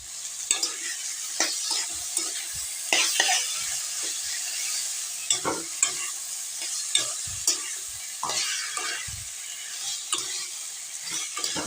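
Taro greens with sesame and poppy seed stir-fry in a pan, a gentle sizzle broken by repeated scraping and clinking strokes of a spatula in an uneven rhythm, with no talk.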